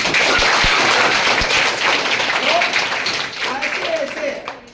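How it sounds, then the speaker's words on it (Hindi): Children clap together in a classroom during a motivational class, a loud, dense burst of applause at the start that thins out over a few seconds while an adult voice speaks over it. "अरे बजने दो मत रोको इन तालियों को"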